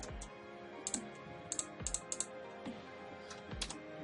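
A computer mouse clicks quietly while a photo is being retouched, giving a scattered run of light, irregular clicks, some in quick pairs, over a faint steady room hum.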